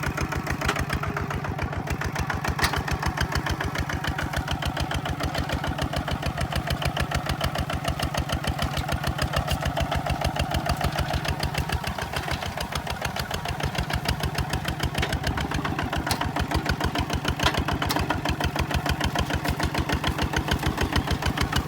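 A tractor engine runs steadily while pulling a disc plough through a field, a loud continuous chugging drone with even rhythm throughout and no talk.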